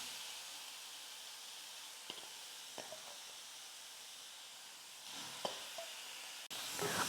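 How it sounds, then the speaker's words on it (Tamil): Bitter gourd dry-sautéed in a hot, oil-free kadai gives a soft, steady hiss, broken by a few sharp clicks and scrapes as the pieces are tossed; the sound stays alone, without speech. "கடாய் நல்லா சூடேறினதுக்கப்புறமா இந்த பாவக்காவை சேர்த்துட்டு லைட்டாக வதக்கிக்கலாம்."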